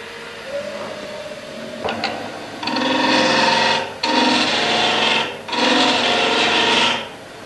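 A bowl gouge cuts a wooden bowl spinning on a lathe, producing loud, sustained rasping shaves in three long passes separated by brief pauses, close and steady, with a faint tap before the cutting starts.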